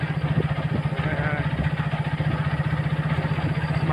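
A motorcycle ridden in the early morning, its engine running steadily with a continuous rhythmic low putter close by throughout, no talking.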